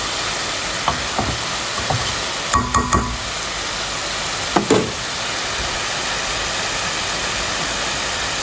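Radish curry with dried fish cooks in a pan, giving a steady, close sizzle broken by a few clattering knocks of a spoon or utensil, with no speech.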